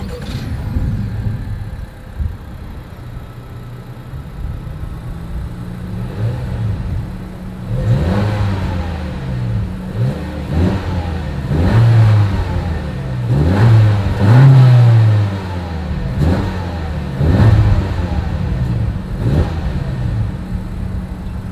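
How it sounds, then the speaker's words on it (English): A 2020 Honda Civic's exhaust idles low, then revs repeatedly in sharp bursts, the engine roaring up and dropping back several times, loud and close. "As always, here is that exhaust clip."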